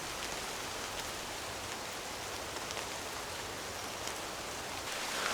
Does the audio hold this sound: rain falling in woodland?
yes